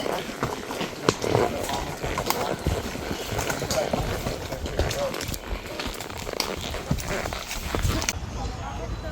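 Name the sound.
horse walking on trail, hooves clip-clopping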